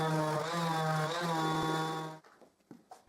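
A power sander whines with a steady, buzzing motor hum for about two seconds while sanding wooden frame joints flush, then cuts off, leaving faint knocks and rustles.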